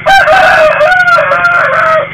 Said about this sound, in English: Rooster, my friend, please help me. I know your crowing can call the light here.